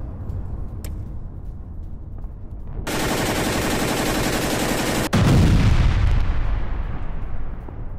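Dense, sustained gunfire from an ambush attack on Ukrainian soldiers, a rapid crackling barrage under steady background rumble, with a sharp loud blast partway through and a heavy rumbling tail afterward.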